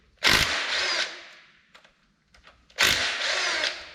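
Two close bursts of a power tool loosening 10 mm bolts on a Silverado engine, each about a second long, separated by a pause with small clicks and handling noises.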